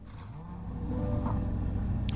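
A sports car engine in the Roblox game Greenville cold-starts and settles into a loud, rumbling idle, with a low growl holding steady throughout.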